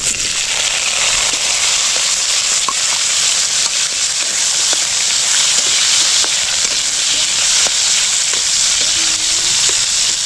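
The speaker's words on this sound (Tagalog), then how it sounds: "Gisa natin yung ating luya." Loud, continuous sizzling from ginger being sautéed in a hot pan, with scattered crackles and pops and occasional stirring scrapes, steady throughout.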